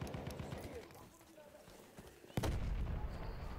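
A grenade goes off in an Xbox shooter game, one sudden loud blast near the end that leaves a heavy rumble. Scattered gunfire-like thumps come before it, and game noise fills the background.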